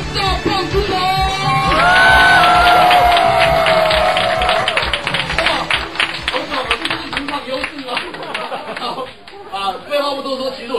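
A live audience claps, shouts and whoops to welcome a stage magician, the loud burst swelling early and then thinning into scattered clapping with a host's voice over it.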